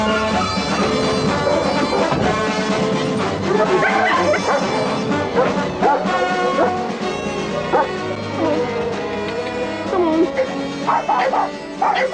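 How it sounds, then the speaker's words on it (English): Small puppy yipping and whimpering close by at a televised dog-themed event, high repeated yelps and whines in irregular bursts over a loud background of voices and music. "It is a lovely wee pup"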